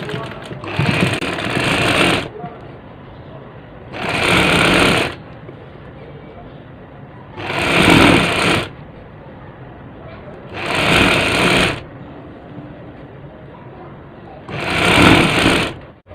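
Sewing machine stitching the hem of a net curtain, running in five short bursts of rapid whirring separated by quiet pauses, loud and close.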